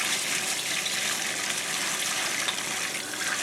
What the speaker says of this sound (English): Next, scrub it down under the hot running water.